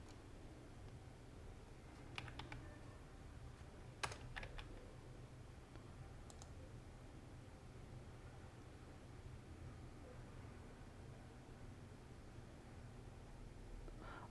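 Soft, scattered keystrokes on a computer keyboard, a few quick taps in small bursts over a faint steady background hum, quiet and close with long pauses between.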